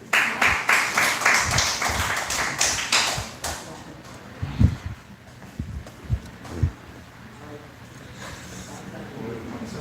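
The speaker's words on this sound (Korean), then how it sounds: "박수." An audience at a senior healing class gathering claps together loudly at first, the applause thinning out within a few seconds into scattered taps and room noise with voices.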